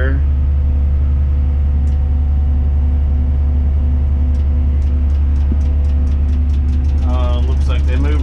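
A Tadano 180 crane running out its boom, its diesel engine a loud steady rumble close by, with a few faint clicks and a voice over the drone.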